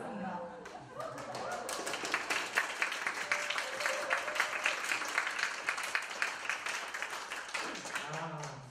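Audience applause at a high school science academy orchestra's annual concert: dense, sustained clapping from a large crowd filling the hall, with a voice speaking briefly near the start and again at the end.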